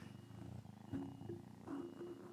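A small kitten purring softly and steadily up close, a quiet continuous low rumble with faint swells, no talking.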